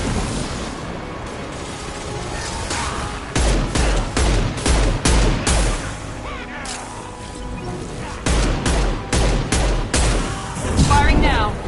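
Gunfire in the game Mass Effect 2 on Insanity difficulty, dense rapid bursts and heavy impacts in several loud waves, mixed with explosions, battle noise and brief voices.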